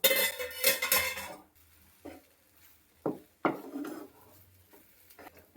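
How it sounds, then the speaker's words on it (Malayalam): Utensil stirring upma in a pot, giving a few separate scrapes and knocks with quiet gaps between them after a louder clatter at the start. "രണ്ട് മിനിറ്റ് കഴിഞ്ഞു തുറന്ന് നോക്കി ഇളക്കിയിടാം"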